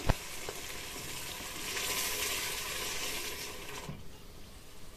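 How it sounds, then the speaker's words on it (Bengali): Beef pieces coated in turmeric, chili, coriander, cumin, ginger paste, garlic, onion and garam masala fry in a pan, giving a steady close sizzle that swells and then eases after a sharp opening clatter. "তো এই যে মাংসটাকে ভেজে নিব ভালো করে"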